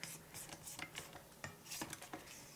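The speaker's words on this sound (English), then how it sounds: "I'm going to scrape down once more." A spatula scraping down a bowl of gluten-free brownie batter, making a quick series of soft, close scrapes and taps that are quiet and uneven in rhythm.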